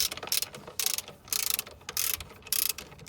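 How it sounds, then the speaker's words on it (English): A ratchet turns the alternator tensioning screw on a 2000 Subaru Outback, giving close, crisp clicking in several quick bursts separated by short pauses. "So now we're gonna tension up the alternator by winding up the tensioning screw."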